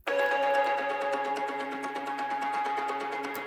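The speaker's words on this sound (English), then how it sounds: "This is kind of like some plucky sort of chopped up stuff." Plucky, chopped-up synth ambience layer for an electronic dance track, a steady shimmering bed of rapid repeating plucks with sustained tonal lines underneath, continuous and fairly loud with no voices.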